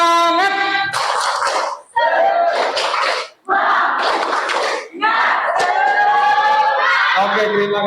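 A group of adults claps out a rhythmic spirit clap (tepuk semangat), bursts of patterned clapping and chanted voices in several loud phrases separated by short pauses, with a leader's voice heard between them.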